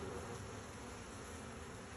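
Desert honeybees swarm around the outside of their hive, roughly a thousand of them, making a steady, close, continuous buzzing drone without pauses and with no voices.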